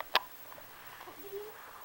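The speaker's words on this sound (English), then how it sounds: "Oh, she has hiccups." A baby hiccups once, a short sharp gasp heard close in a quiet room. Soft faint sounds follow.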